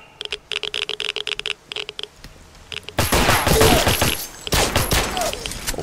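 Gunfire in S.T.A.L.K.E.R. Call of Pripyat with the Misery mod: a rapid series of sharp separate shots, then a louder, denser stretch of overlapping fire and impacts.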